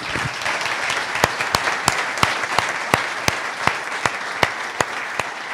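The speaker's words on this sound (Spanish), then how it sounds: "quiero también un aplauso para ellos" An audience applauds at an annual weed science meeting, a steady wash of clapping with sharp, evenly spaced individual claps standing out about every third of a second.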